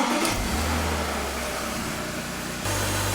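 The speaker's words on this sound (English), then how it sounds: "Let's go ahead and start the car and see how it behaves." A BMW E46 car engine turns over, catches and settles into a steady idle, then picks up again near the end, heard close with no voices.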